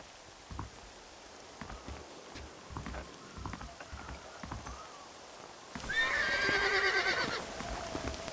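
In Red Dead Redemption, a horse lets out a loud, shaky whinny near the end, following a stretch of soft hoof thuds and patter in the background.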